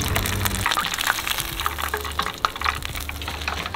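Battered fish deep frying in a fryer of hot oil, a loud, close, continuous bubbling sizzle with crackling pops, alone without talk.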